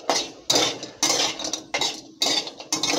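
Whole spices for kala masala dry roasting in a pan, with several sharp scraping, rattling strokes of a utensil against the metal at a steady rhythm, close and clear with no talk.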